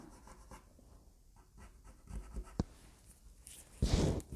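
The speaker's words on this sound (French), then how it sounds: "les zones où j'ai besoin de gommer, eh ben je gomme" Pencil drawing being erased with an eraser, a soft scrubbing and rubbing against paper in short bursts with a louder, busier stretch near the end, close and quiet with no talking.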